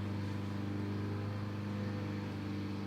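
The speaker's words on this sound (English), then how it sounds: "That is a lawnmower." Lawnmower engine droning steadily in a suburban neighborhood, a low, even hum with a faint pulsing, heard at a moderate distance and quiet overall with no talk.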